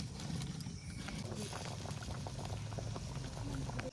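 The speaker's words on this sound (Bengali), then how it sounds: "এখন তরকারিটা একটু জাল হতে থাকবে" A pan of fish and potato curry boils steadily, a dense bubbling simmer that runs continuously at moderate volume without pause.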